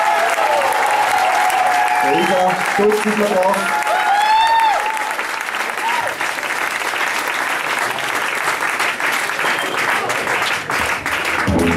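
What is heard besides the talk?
audience applause in a theatre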